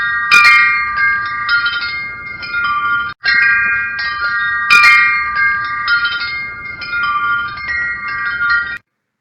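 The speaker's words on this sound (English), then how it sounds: "It was the sound of wind chimes." Wind chimes tinkle on their own, bright metallic tones overlapping and ringing out in gentle repeated clusters, fairly close and clear throughout.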